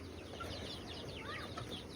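A Veselka cross hen gives soft, low clucks at a distance, faint and spread across a steady farmyard background with no voices.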